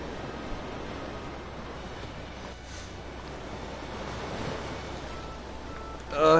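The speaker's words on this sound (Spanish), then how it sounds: "Como suenan las olas" Ocean waves from the One Piece Odyssey video game wash steadily in a soft, continuous rushing surf bed, fairly quiet and unbroken, with a brief louder burst right at the end.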